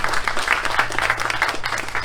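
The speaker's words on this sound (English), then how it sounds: "you deserve a big round of applause" Brief burst of audience applause at the Lakeridge Gardens grand opening, a crowd clapping steadily and fairly close with a low hum beneath.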